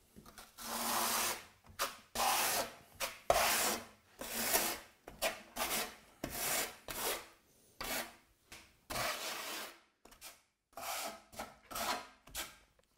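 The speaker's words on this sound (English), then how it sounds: "back buttering essentially is just keying it in straight flat with the flat side of the trowel" Flat side of a trowel back buttering thinset onto a tile, heard as repeated close rasping, scraping strokes in an uneven rhythm with short pauses between passes and no speech.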